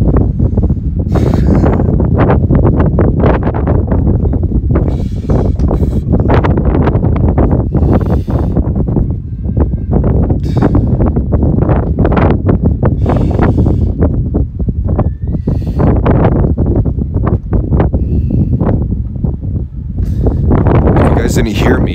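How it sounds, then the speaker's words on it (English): Strong wind buffets an outdoor microphone on Santorini, a loud, continuous low roar with gusty rumbling surges that persist throughout, nearly drowning out everything else. "I'm sorry for it being windy."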